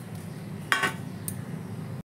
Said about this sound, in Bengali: এবার কড়াইতে তেল দিয়ে এটা নেড়ে নিই।